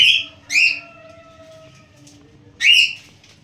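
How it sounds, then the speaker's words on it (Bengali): Fancy pigeons in a loft give sharp, squeaky bird calls: two quick high cries close together, then a third after a pause, near and fairly loud against a quiet background. "এই দুটো তো ফ্যান্সি পায়রা আছে দেখলেই বুঝতে পারবে তোমরা"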